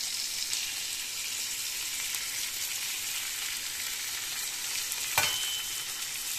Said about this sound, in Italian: prendiamo un ovetto, lo spacchiamo sopra la nostra salamina